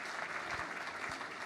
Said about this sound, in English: Applause for Aisha.